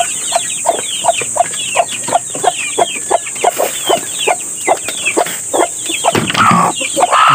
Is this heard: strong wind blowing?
no